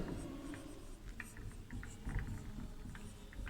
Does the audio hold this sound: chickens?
no